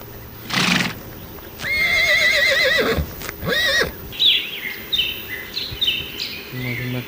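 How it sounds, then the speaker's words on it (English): A horse gives a loud, quavering whinny in two rising bursts, alongside a brief hiss and some faint chirping in the background. "horse"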